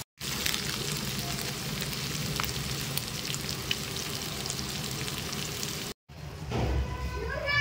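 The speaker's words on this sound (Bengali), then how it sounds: "আর এখানে ছোট মাছ ভাজা করছি" Small fish frying in a pan, a loud steady crackling sizzle close by, briefly cut off and then resuming with fresh bubbling spatters.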